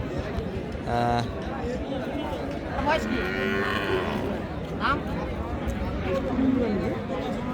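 A cow moos twice at a busy cattle market at Ambari haat, its drawn-out calls rising over constant crowd chatter and nearby talking.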